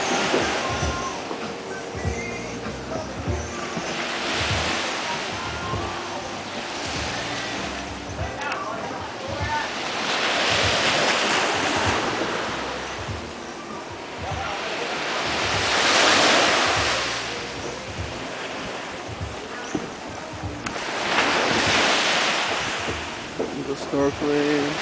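Ocean waves break and wash up on a beach at Ko Samui, Thailand, in slow swelling surges every few seconds, with steady wind noise on the microphone throughout.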